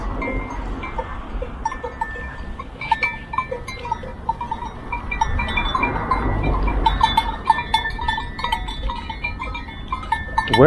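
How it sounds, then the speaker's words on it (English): A herd of goats on a hike in the Greek islands, bleating repeatedly from near and far while cowbells clink and jangle through the herd, with no one speaking. "So many goats."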